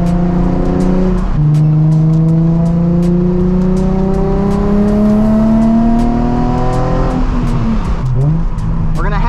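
A Nissan 350Z engine drones loudly and continuously while driving, its pitch climbing through gear after gear with brief dips at each shift, close and sustained.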